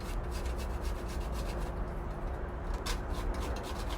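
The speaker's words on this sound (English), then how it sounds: "I'm going to go ahead and grate some dark chocolate on top." Dark chocolate grated over a warm Tom and Jerry cocktail, a steady soft rasping scrape of repeated strokes that runs on throughout, close by with no talking.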